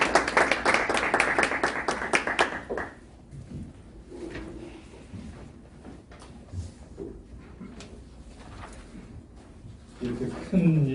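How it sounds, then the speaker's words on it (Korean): An audience at a rural-mission policy forum claps for about three seconds to welcome a theology professor, then the clapping fades into a quiet room with faint rustles before a voice begins. "여러분 박수로 맞아주시기 바랍니다."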